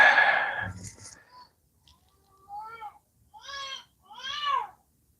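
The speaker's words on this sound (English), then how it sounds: "Goddamn cats." Cats meow three times in a row, drawn-out and fairly close, after a burst of noisy clatter and a brief spoken sound at the start.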